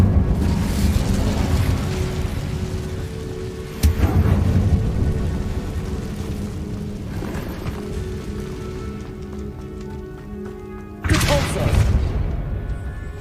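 Fiery spell blasts in Hogwarts Legacy, with a sharp booming burst near 4 seconds and another near 11 seconds over a steady crackling, rain-like wash of game ambience and low rumble.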